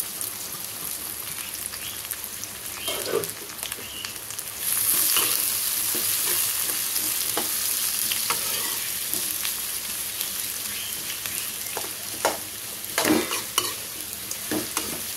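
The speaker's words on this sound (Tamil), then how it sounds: "அது அளவு வரைக்கும் பெரிய வெங்காயம் வதங்கட்டும்." Three chopped big onions sauté in a pan for pepper chicken, with a continuous quiet sizzle and frequent scraping clatters from a spatula stirring them.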